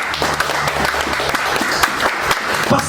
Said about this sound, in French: Acclamons notre Dieu, frères et sœurs.